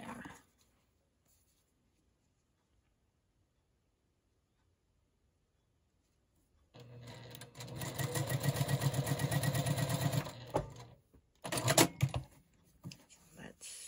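A sewing machine stitches a quilt block, a steady buzzing run of stitching for a few seconds after a long quiet stretch, then a shorter burst, close by, with talk faintly around it.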